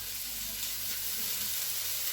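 Onions and bacon lardons fry in a pan with a steady, close sizzle and soft crackling, unbroken for the short stretch.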